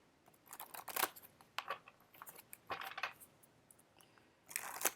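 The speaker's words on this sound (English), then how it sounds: "Let's shuffle these a little bit." Tarot cards are shuffled by hand in quiet surroundings, with soft papery riffles and taps arriving in short irregular bursts, close and faint.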